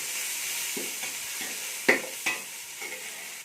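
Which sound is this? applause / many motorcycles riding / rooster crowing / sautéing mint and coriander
sautéing mint and coriander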